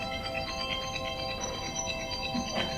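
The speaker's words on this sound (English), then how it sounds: "You have the same ringtone I do." A phone ringtone plays steadily as a bright, repeating electronic melody over low background noise, with no talking.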